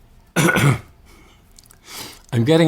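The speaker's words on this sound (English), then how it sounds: "It's making me want to cough and clear my throat a little bit." A short throat clearing up close after tasting baijiu, followed by faint breathing and then a person starting to speak.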